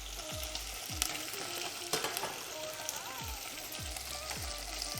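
Food fries in a pan with a continuous close sizzle, punctuated by occasional clinks and stirring sounds.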